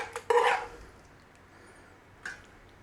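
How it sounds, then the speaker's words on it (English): Liver pâté mixture being moved into a blender fitted with blades: a brief clatter and scrape of utensil against the container, then quiet, with one softer knock near the end. "So let's transfer our liver mixture to there."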